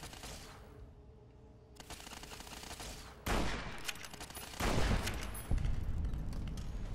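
Brush gun fire in Fallout: New Vegas, loud gunshot bursts breaking in around three points over a steady game background, with dense rapid crackling after each shot.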